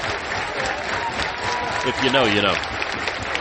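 Ballpark crowd at an NCAA college baseball super regional game, Louisville versus Miami, building a rhythmic two-strike clap; dense crowd noise and clapping run throughout, with an announcer talking over it.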